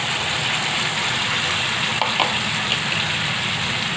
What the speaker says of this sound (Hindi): अब मैं जो मसाले पीसी थी आप देख सकते हैं, उसे मैं उसकी ग्रेवी में इसमें डाल रही हूँ